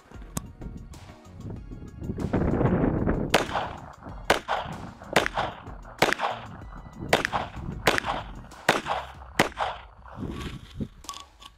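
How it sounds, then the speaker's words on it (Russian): Sharp shots from an MP-79-9TM traumatic pistol fired at a central target about five meters away, a string of loud cracks at irregular intervals with some handling noise between them. "Буду стрелять в центральную мишень."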